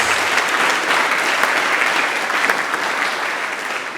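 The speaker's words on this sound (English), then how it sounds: "I would want you to give an applause to them" Loud, sustained applause from a crowd, dense clapping that holds steady throughout with no talk.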